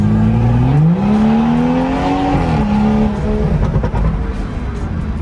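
A tuned Toyota Supra engine revs hard nearby, rising in pitch, holding, then dropping back to a rough idle with some crackle.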